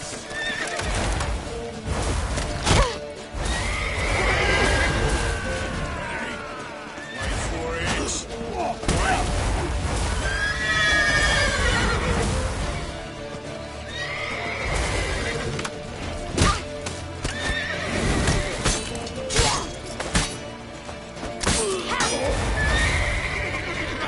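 Horse neighing and whinnying with hooves clip-clopping in the Witcher 3 video game, repeated calls over galloping, mixed with gunfire-like bursts and shouted voices.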